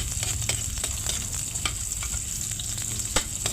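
Garlic and onion sautéing in a pan, a steady close sizzle and crackle with occasional scrapes and stirring clicks, no talking.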